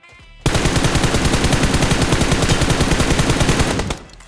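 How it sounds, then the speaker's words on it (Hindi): Loud, sustained automatic gunfire from a mobile battle royale shooter rattles in a dense rapid burst for several seconds while multiple squads fight, then cuts off abruptly. "बहुत ही खतरनाक गोली चल रही थी।"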